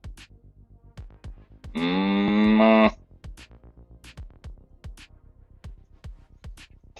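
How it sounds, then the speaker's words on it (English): A cow lets out one loud, close, drawn-out moo lasting about a second, set against a steady, evenly spaced ticking beat that runs throughout. "Oh, cow moo."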